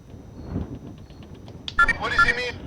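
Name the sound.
phone voicemail tones in Perception video game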